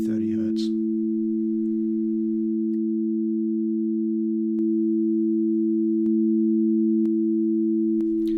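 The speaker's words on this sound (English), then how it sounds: "Here we program a white noise generator and 2 oscillators, one at 220 Hz and one at 330 Hz." Two programmed electronic oscillators sound together as a steady, pure, unwavering tone pair, loud and continuous throughout, with a few faint clicks and no talking.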